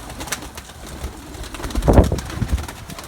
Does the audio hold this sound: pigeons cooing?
yes